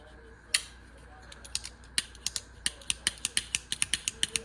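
Craftsman Quick Flip pocket knife, freshly oiled, being flipped open and shut over and over, giving sharp metallic clicks and snaps in a quickening, fairly regular series, close up.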